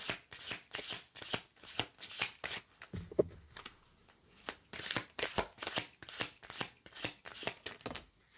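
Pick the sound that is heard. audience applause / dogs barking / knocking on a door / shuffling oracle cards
shuffling oracle cards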